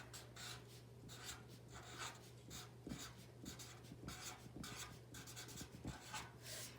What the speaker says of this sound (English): switch back to my fine Sharpie and write the word mushrooms